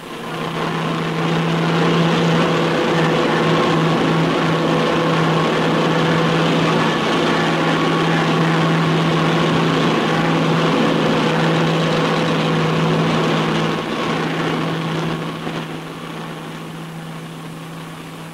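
Short Sunderland flying boat engines drone in flight over Greenland's frozen landscape during an RAF operation: a loud, steady, unbroken roar with a low hum that eases slightly near the end.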